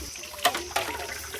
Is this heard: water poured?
yes